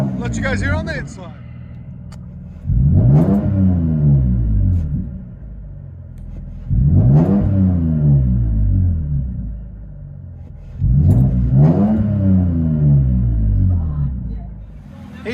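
From inside the cab of a Toyota Tacoma with a very loud exhaust, three deep revs swell and fall back to a droning idle, heavy and booming, with voices talking over it.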